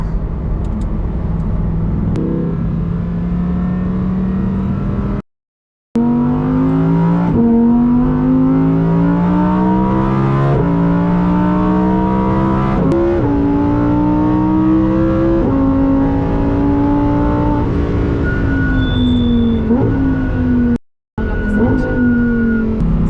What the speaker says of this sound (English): So let's see how the Technica feels on track. First things first, manual.